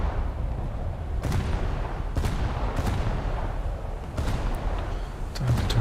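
A battleship's big guns fire AP shells in a naval video game, heard as a series of sharp, booming reports with rumbling tails, fairly loud over a constant low background roar, with a few quicker cracks near the end.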